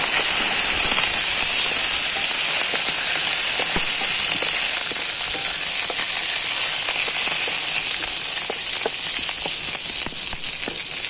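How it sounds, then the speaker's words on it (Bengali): Curry leaves hit hot oil just after black cumin seeds, setting off a steady, loud crackling sizzle with many sharp pops throughout, close by and with no talking. "কারি পাতা কারি পাতাটা একটু ভেজে নেব"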